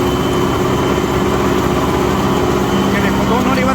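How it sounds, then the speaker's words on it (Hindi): A tractor engine runs steadily at 2100 RPM in low first gear with the clutch pressed, a constant loud drone with no change in pitch, under a voice. "बिल्कुल मज़े में चल रहा है ट्रैक्टर"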